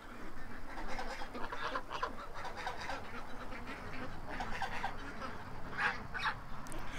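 White geese honk and ducks quack at a feeding spot, a faint, busy mix of scattered honks and calls over steady outdoor background noise at a moderate distance.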